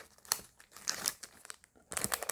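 Foil wrapper of a One Piece trading card pack crinkles and tears in short, close bursts with brief pauses, ending in a sharper flurry of crinkling.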